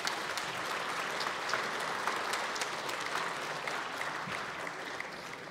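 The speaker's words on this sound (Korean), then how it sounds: "여러분 박수 한번 부탁드립니다." Applause fills the National Assembly plenary chamber, a dense, steady clapping from many people that continues throughout, slowly easing toward the end.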